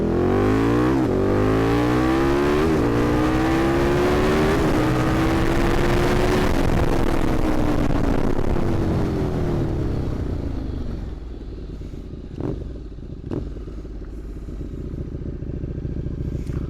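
A KTM 1290 Super Duke R motorcycle engine roars at full throttle, revs climbing through several gear changes before the sound fades as it pulls away.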